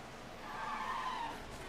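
A Williams Formula 1 car locks its brakes and crashes behind a Haas in the F1 Manager 23 racing game: a sustained tire skid with engine noise swells and fades over under two seconds, fairly faint.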